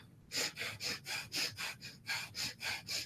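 A yoga breath-of-fire exercise is performed as a steady run of about ten quick, forceful nasal exhalations. The puffs come at an even rhythm, each one a sharp breathy burst close by, with no speech.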